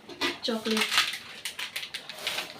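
Chocolate cake ingredients are stirred in a steel vessel, a utensil scraping and clinking against the metal in quick irregular strokes, close up, with a voice talking over part of it.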